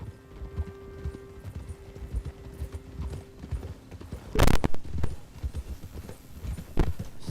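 Horse hooves in the video game Red Dead Redemption 2 clip-clop in a steady walking rhythm throughout, with a sharp louder knock partway and soft ambient background.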